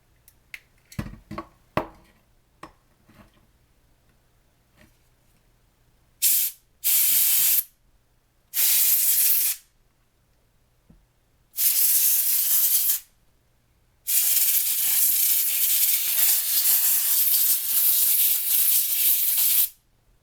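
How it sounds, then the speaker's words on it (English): Compressed air blasts cleaning an OMNIKEY ULTRA keyboard, loud close hissing spray in five bursts, short ones first and a long sustained one at the end, after a few light clicks and taps. "Will use compressed air."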